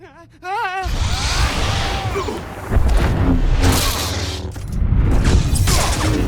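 Heavy gunfire erupts in a Star Wars: The Old Republic co-op battle: a loud, sustained fusillade of blaster shots and booms, with voices in the mix throughout.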